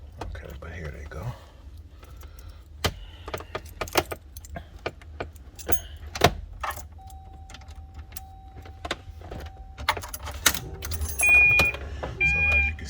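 Car keys jangle and clink in short bursts inside a Cobra conversion car, close and fairly quiet against low rumble, with scattered clicks and a faint electronic beep or chime near the end.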